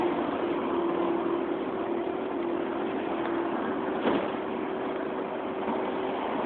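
Steady low engine drone of a motorcycle being started up for a ride, a constant muffled hum with a faint tonal whine running throughout.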